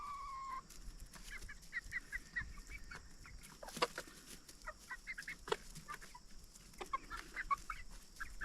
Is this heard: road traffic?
no